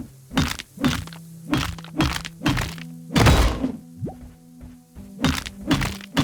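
Repeated heavy thunks and cracks as a mace smashes breakable objects in the video game Dysplaced, about a dozen blunt impacts in an irregular rhythm over a steady low hum, with one louder crunching break midway.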